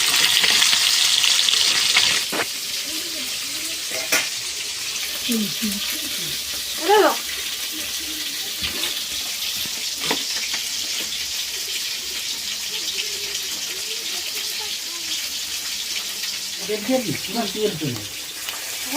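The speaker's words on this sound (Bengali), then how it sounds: "এদিকে হচ্ছে মাছের ঝোল হবে, তার মাছটা ভেজে নিচ্ছি।" Fish pieces fry in oil for a Bengali fish curry, a steady hiss of sizzling running through the whole stretch, with a few louder spits near the start and a person talking intermittently over it.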